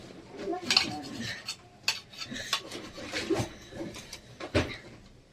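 A knife cuts a bread omelette into pieces on a plate, making irregular scrapes and sharp clicks of metal against the dish, close and moderately loud.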